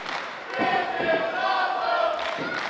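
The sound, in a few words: wrestling crowd cheering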